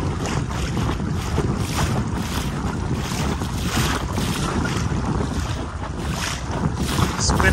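A small boat on Hickling Broad in rough weather, with waves slapping and washing continuously while strong wind buffets the microphone, forming a dense, steady roar without a break.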